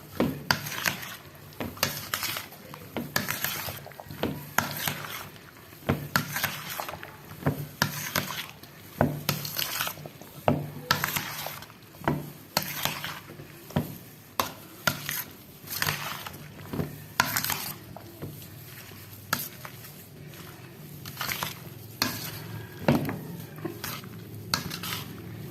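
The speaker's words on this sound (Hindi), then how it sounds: "अब हम इसको अच्छी तरह मिक्स कर लेंगे।" Salad ingredients, including strawberries, being stirred and mixed in a bowl for a Russian salad, heard as steady scraping and clinking of a utensil against the bowl in repeated rhythmic strokes, close and alone without talk.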